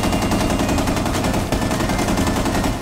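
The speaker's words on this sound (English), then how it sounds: "Suppressing fire" Sustained suppressing machine gun fire in a video game, a loud continuous rapid rattle that runs the whole stretch without pause and without talk.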